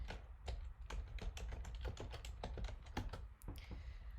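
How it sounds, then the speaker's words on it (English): Username and password being typed on a computer keyboard, a quick, slightly irregular run of close key clicks and taps that continues almost without a break, with nobody talking. "type in your username and password"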